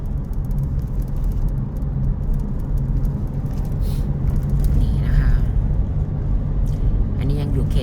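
Car driving along a road between the Suphan and Borommaratchachonnani intersections, a low steady engine and tyre rumble inside the vehicle, with someone talking over it.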